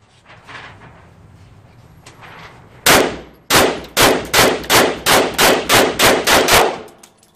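Ten sharp gunshots from a Grendel P30 .22 Magnum pistol firing CCI rounds ring out loud and close, the first pair spaced apart, then the rest in a fast, steady string of evenly timed cracks.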